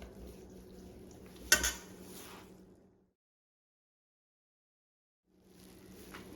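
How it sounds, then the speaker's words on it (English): Spoon clinking and scraping in a bowl while mixing a broccoli, minced garlic and chicken filling, soft close stirring with one sharp clink, then silence before stirring resumes. "We're going to mix all of this up."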